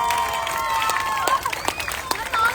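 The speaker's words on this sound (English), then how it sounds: "One big round of applause for everyone." Applause and cheering rise from a crowd at a grand closing ceremony of a school carnival, with scattered claps and voices mixed under steady murmur.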